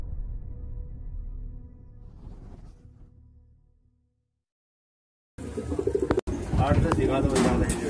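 Madrasi pigeons cooing softly at first, fading to silence, then a louder close burst of cooing and bird sounds after a brief gap.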